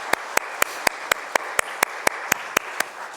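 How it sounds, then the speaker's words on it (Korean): A church congregation at a Sunday afternoon praise service claps together in a sharp, evenly spaced beat, about four strikes per second, over a softer wash of scattered clapping. "함께 박수로 축복하겠습니다"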